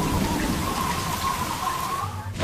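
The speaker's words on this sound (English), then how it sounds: "As they approach the airport, the rain isn't letting up." Heavy rain pours steadily during a storm near an airport, a dense, continuous hiss of downpour that holds at a constant loud level throughout, with a faint low rumble underneath.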